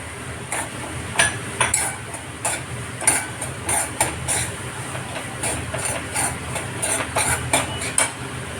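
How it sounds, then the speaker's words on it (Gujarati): A spoon scrapes and taps against a pan while semolina and almonds roast over medium heat, producing irregular metallic clinks and scraping strokes in a steady stirring rhythm, with no speech. "હું હવે એમાં રવો પધરાવી દઈશ અને મીડિયમ તાપે હું શેકીશ."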